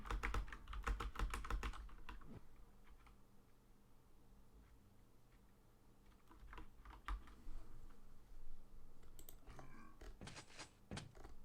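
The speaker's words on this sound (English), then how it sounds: "Oh no, he's actually typing." Keyboard typing during a 125FPS Pro League match, heard as quick bursts of key clicks, with clusters near the start and again toward the end and quieter stretches between, all at low volume with no talking.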